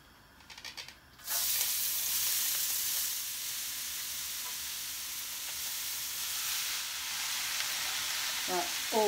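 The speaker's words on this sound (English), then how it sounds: "I am going to start frying that off now" Four-bean vegan chilli frying in a pan, a loud, steady close sizzle that starts abruptly after a brief clatter and hisses on without a break, with a few faint scrapes near the end.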